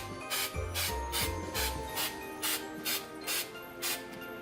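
A spray can of Easytack adhesive shaken in regular strokes, about nine or ten crisp rattling swishes at a steady rhythm, close and clear with no talking, while Christmas ornaments are being made from acrylic, gold leaf and vinyl.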